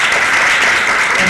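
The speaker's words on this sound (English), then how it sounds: "Another round of applause." Steady, dense audience applause at a candidate forum, loud and continuous throughout with a faint murmur of voices underneath.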